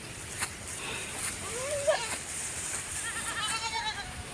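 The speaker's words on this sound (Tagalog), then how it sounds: "Kambing." A farm goat bleats a few times amid outdoor background noise, its wavering calls moderately close, with a person talking nearby.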